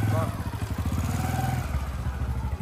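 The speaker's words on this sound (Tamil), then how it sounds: "என்ன வண்டி இது? ஹீரோ ஹோண்டா ட்ரை பண்ற." An old, roughly 30-year-old Hero Honda motorcycle chugs along a street at close range, its engine putting out a steady low pulsing beat while people talk over it.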